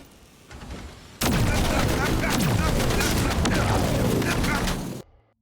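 A mag pulse weapon fires in a video game, a sudden burst of rapid, roaring shots that starts abruptly, holds loud and dense for about four seconds, then cuts off into silence.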